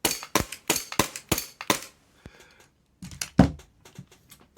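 Tokyo Marui Glock airsoft pistols fire in a quick series of sharp close snapping shots, then a pause and a few more cracks, with no talking.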